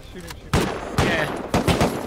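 Gunfire in the survival game Rust during a raid, several loud sharp shots spaced about half a second apart, close and punchy, with a brief double report near the end.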